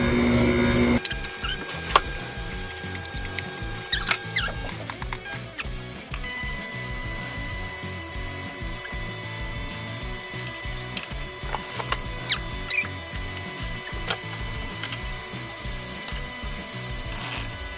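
A juicer processes pineapples with a continuous grinding motor whir and uneven mechanical rattling, close and fairly loud after a short different sound at the start.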